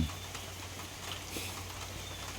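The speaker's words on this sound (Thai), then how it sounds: "ฝนตก น้ำไหลลงจากหลังคา เสียงน้ำกระทบหลังคา" Rain falling in a green, leafy setting and running off a roof, a soft steady patter with scattered drips heard from under shelter, faint and continuous, with no talking.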